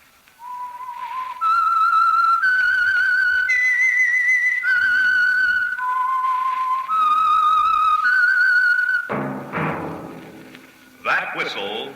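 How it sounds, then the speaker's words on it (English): A loud, clear whistled melody of rising and falling notes plays as the theme signal for The Whistler radio program, followed by a burst of orchestral music at the end. "That whistle is your signal for the signal oil program, The Whistler."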